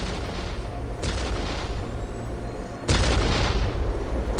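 Ork artillery in the strategy game Dawn of War fires in heavy booming blasts, two big shots standing out over a constant rumbling battle din, loud and without speech.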